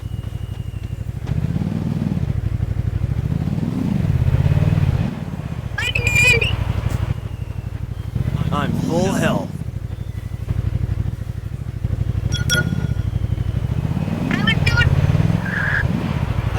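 A jeep driven in a video game hums with a steady, low engine drone that swells and eases as it moves, while players talk over it throughout.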